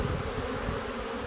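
Honey bees swarm at an open beehive during autumn feeding and frame removal, a dense, steady buzzing that is loud and close with no voices.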